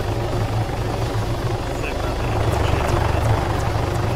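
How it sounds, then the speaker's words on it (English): In the video game Arma 3, a helicopter passes overhead with a loud, continuous rotor and engine rumble that thickens partway through, while people talk over it. "Why are you flying over me in a heli?"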